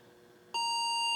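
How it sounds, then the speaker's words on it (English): A single electronic beep from an IBM 5170 computer starts abruptly and holds as a steady, bright tone after a brief quiet moment. "It's working now, except why is it beeping?"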